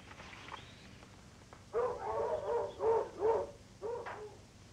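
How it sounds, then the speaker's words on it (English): Several dogs bark in a 1961 period adventure film, a run of five or six close, clear barks in quick succession after a quiet moment. "Why are the dogs barking?"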